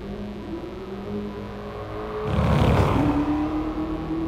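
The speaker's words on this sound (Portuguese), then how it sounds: "V8 roncando bonito." Supercharged 6.2-litre V8 of a Dodge Charger SRT Hellcat in the GT Sport racing game, steady engine drone swelling into a loud roaring rev burst midway, then settling into a higher sustained whine.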